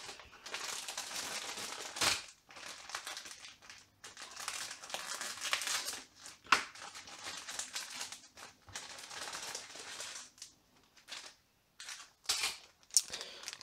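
Stiff plastic packaging for a white Gunpla Action Base is torn open and crumpled in close, irregular bursts of crinkling and crackling with brief quiet gaps between them.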